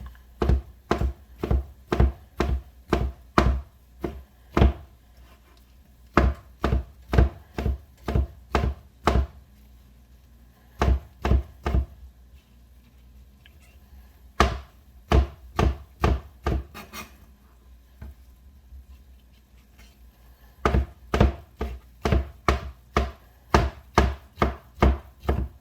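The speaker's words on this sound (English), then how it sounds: "Gonna chop up the wood ear mushrooms next." Knife chopping wood ear mushrooms on a cutting board for hot and sour soup: crisp, rapid thunks in bursts of steady rhythm, separated by short pauses, close and distinct.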